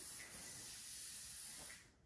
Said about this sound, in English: Now, I'm just going to spray this. I'm going to give it some shine.